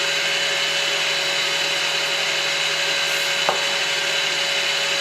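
An electric mixer whips egg whites to a froth for homemade chocolate mousse, producing a constant, even motor whine and whir with one brief knock partway through, loud and close, with no talking.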